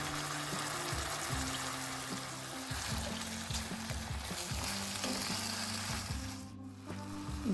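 Steady loud sizzling of chicken frying in a pan, a continuous crackling hiss with low rhythmic clanks of stirring throughout.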